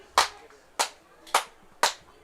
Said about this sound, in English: As the Royals fans start to clap here